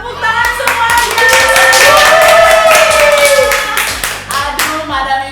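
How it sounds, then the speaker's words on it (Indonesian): A group of people clap hands together loudly and rapidly at close range for several seconds, with a voice rising over the clapping partway through before it thins out. "Tepuk tangan semuanya."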